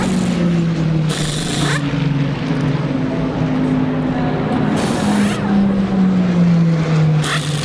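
An Audi race car rolls into the pits at the Daytona 24-hour race, its engine droning with shifting pitch beneath busy pit-lane noise, loud and sustained with intermittent bursts of hiss.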